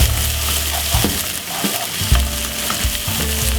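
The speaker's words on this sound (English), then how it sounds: "Give it a little stir." Onion and blended garlic fry in a pot while being stirred, giving a loud, close, continuous sizzle with scraping stir strokes.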